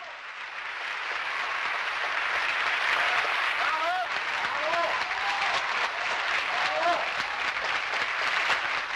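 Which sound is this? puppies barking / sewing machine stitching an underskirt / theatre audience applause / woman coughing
theatre audience applause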